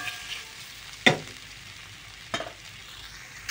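Fish and taro root sautéed and stirred in a pan for a Bengali curry, a low soft sizzle broken by two distinct scraping clacks of the spoon, no talk.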